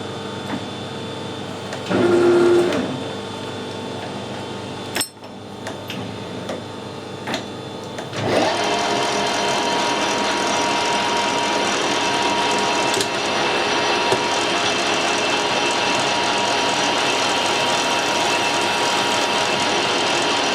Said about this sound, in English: This is machining quite nicely.